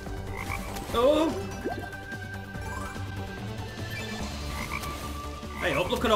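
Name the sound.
frogs croaking in Fire Hopper slot video game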